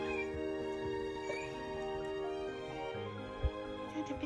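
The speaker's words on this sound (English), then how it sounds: "Is that a big kitty cat?" A big cat meowing indoors, drawn-out caterwauling calls against a steady tonal background hum, moderately faint, with a brief thump near the end.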